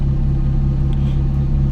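A 20-year-old Nissan Platina with a K4M engine, running after a throttle position sensor replacement, gives a steady, loud, close rumbling drone with an even engine hum and no talk.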